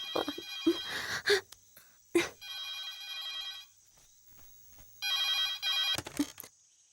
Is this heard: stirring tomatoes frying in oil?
no